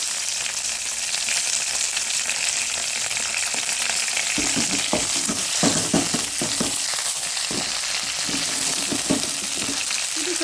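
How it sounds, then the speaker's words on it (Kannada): Curry leaves and green chilies fry in hot oil over medium heat, a loud, steady close sizzle broken midway by bursts of crackling and spattering as the pan is stirred. "ಫಸ್ಟಿಗೆ ಕರಿಬೇವು ಹಾಕ್ತೀನಿ ಮೆಣಸಿನ್ಕಾಯಿ ಹಾಕ್ತೀನಿ ಮೆಣಸಿನ್ಕಾಯಿ ಹಾಕಿದೆ"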